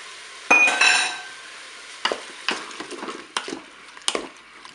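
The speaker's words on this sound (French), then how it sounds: "J'ajoute maintenant mes tomates et mes lanières de poivron." Tomatoes and pepper strips drop into pork in a Cookeo multicooker pot for a ratatouille-style sauté, a loud tumbling splash followed by several clinking stirs and scrapes, close and with no talking.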